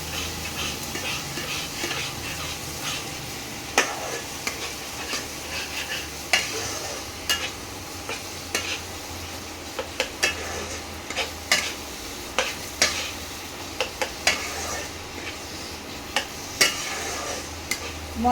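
Mutton mince frying with spices and Kashmiri chilli powder in a pan, a soft sizzle under repeated scraping strokes of a spatula that grow more frequent and sharper toward the end, heard up close.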